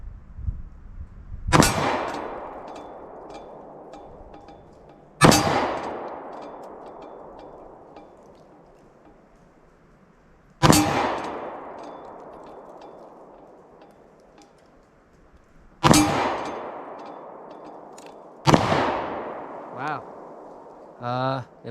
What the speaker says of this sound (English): Let's put these 12 down the range and see how the pistol cycles.